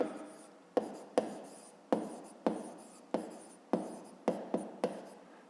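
A pen scratches across paper in a series of about nine short strokes during a fifth-grade math exercise, each starting with a sharp tap and trailing off, close and quiet with no talking.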